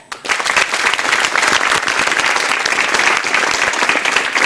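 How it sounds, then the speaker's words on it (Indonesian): An Indonesian TV studio audience claps for university students on a talk show: a dense, loud burst of applause that starts abruptly and holds steady at close range, with no speech over it. "kita berikan aplaus kepada mereka"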